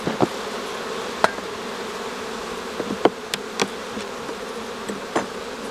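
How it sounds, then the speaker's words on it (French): Honeybees buzz around a hive as it is smoked from the top, a steady close insect drone punctuated by brief sharp clicks and knocks from hive handling, with no speech. "Donc il y a quelques abeilles qui circulent"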